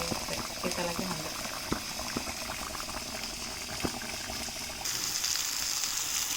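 Seer fish head curry bubbling in a pan on the stove, a close, steady simmering crackle and fizz with occasional louder pops, continuing throughout and rising slightly near the end.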